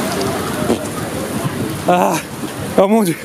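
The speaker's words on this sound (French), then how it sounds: "Là il est actuellement en train de pleuvoir." Rain falling outdoors during a weekend at Cannes, a steady soft patter throughout, with a person speaking briefly near the end.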